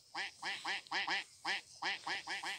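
Cartoonish duck quacks from a duck-fighting video game, a rapid run of about a dozen loud, close quacks in uneven bursts with short gaps, no talk over them.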